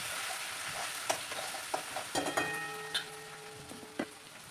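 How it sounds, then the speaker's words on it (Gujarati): Ginger garlic paste roasting in hot oil in a pan, with a bright, crackling sizzle and intermittent spoon taps and scrapes as it is stirred, one brief tonal ring partway through. "એ તેલમાં આપણે નાખીશું આદુ લસણની પેસ્ટ।"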